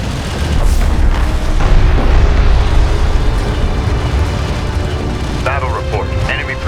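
Battle explosions in the real-time strategy game Homeworld: Deserts of Kharak, heavy deep booms rolling together into a loud rumbling barrage while a radio-style voice speaks over the fighting.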